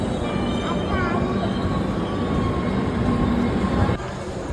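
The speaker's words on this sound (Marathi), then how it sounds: "आपली ट्रेन आली इकडे" The Sainagar Shirdi train rumbles steadily close by as it arrives at a station, with thin metallic wheel squeals rising above the rolling noise before it eases off near the end.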